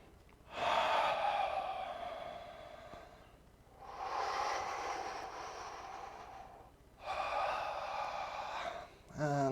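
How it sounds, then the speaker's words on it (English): Three long, deep breaths taken during a yoga session, each a broad, airy inhale or exhale lasting a few seconds, close and fairly loud, separated by brief quiet pauses. "Breathe in deep."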